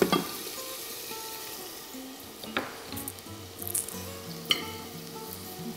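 Food fries in a pot for oriental mushroom soup, a steady quiet sizzle with occasional pops and light clinks, alone and without talk.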